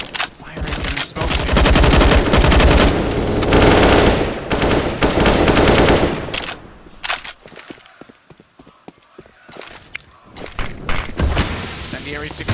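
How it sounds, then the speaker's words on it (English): Rapid automatic gunfire in Counter-Strike: Global Offensive rattles loud and sustained for several seconds, then breaks into scattered shots and clatter, with someone commentating over it. "Firing from the smoke."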